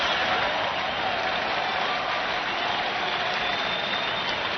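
Dense, loud crowd cheering and applause at a 1987 US Open quarterfinal tennis match point, Jimmy Connors versus Brad Gilbert, a steady roar filling the whole stretch without letting up.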